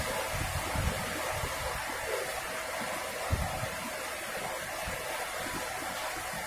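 Sudden heavy rain shower heard from indoors as a dense, steady hiss with occasional low thumps, fairly faint and constant, no talking.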